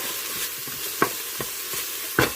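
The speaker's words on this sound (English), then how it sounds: "Okay, the onions are starting to soften up a little bit." Onions sautéing in an Instant Pot give a soft steady sizzle, with a few light scrapes and clicks from stirring close by.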